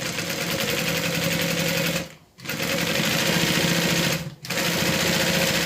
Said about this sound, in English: I just sewed up that opening that we used to turn it right side out.